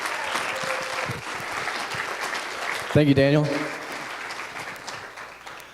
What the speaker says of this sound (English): Can we give Sam a big, big round of applause?